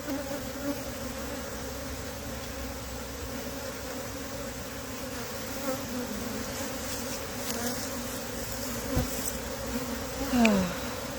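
A dense swarm of honey bees drones continuously just outside the hive, a loud, steady buzz with individual bees zipping past the microphone now and then.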